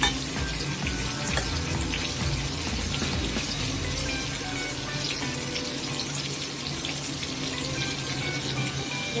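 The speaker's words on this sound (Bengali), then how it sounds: "তেলের মধ্যে পটলগুলো খুব ভালো করে সিদ্ধ হয়ে গেছে এটা কড়া করে ভেজে তুলে নিতে হবে" Whole pointed gourds (potol) frying in hot oil, a steady, dense sizzle and crackle that runs unbroken and close throughout, with no talking.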